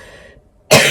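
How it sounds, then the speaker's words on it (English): After a soft fading tail of sound, a person with a lingering cold lets out a single loud, close cough near the end, abrupt and harsh. "I'm going to cough now"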